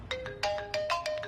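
A phone ringtone plays a quick, bright melodic pattern of short repeated tones, fairly close and clear, with no voices over it.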